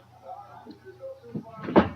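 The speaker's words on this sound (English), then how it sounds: "Could you shut the door, Kelowna?" A door closing indoors: a single solid thud near the end, preceded by faint background voices and quiet movement.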